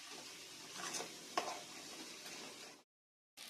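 Mutton masala is stirred and fried in a pan, a faint, steady sizzle with a few sharp spatula knocks, ending abruptly in silence before a brief return.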